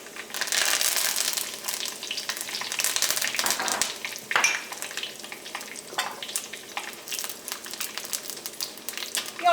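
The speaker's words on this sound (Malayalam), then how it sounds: "കറിവേപ്പില ചേർക്കാം." Curry leaves and dried red chillies sizzle and crackle steadily in hot oil while a carrot pickle is made, the frying dense and continuous, with brief louder pops and stirring scrapes and no voices.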